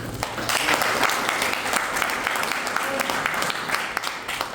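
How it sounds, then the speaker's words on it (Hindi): Audience applause at a business motivational gathering, a dense steady roar of many hands clapping that fills the whole stretch at an even level, with faint voices mixed in. "अपने लिए ताली बजा लीजिए आप।"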